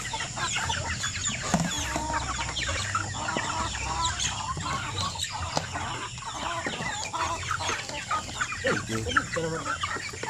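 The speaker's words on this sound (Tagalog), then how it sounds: "magpakain sa mga manok" A flock of chickens clucks and squawks steadily during feeding time on a farm, the busy overlapping calls filling the scene at close range alongside faint background voices.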